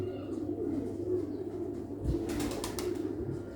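Pet pigeons give soft, low, repeated coos close by, with a brief flutter of wings partway through.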